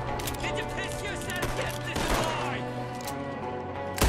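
Gunfire in the video game Red Dead Redemption 2: scattered sharp shots and thuds popping over a few seconds amid game music and voices, ending with a loud close bang.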